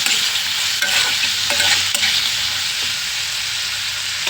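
Onions frying and being stirred in a pan for a tamarind stew with eggs, dried fish and okra, a steady close sizzle with scraping stir strokes throughout, no talking.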